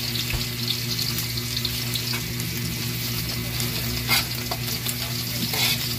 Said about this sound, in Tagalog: Halo-halo hanggang sa bumango at madurog ang ating ginamos bagoong.